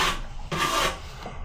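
Plaster being mixed by hand with new plastering tools, a steady near scraping and rubbing rasp in two long strokes with a brief pause between, no voices.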